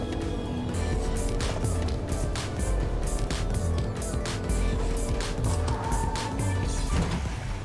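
A pickup truck drives through a video game, its engine a continuous rumbling drone overlaid with repeated clattering bumps and knocks, loud and close throughout, without speech.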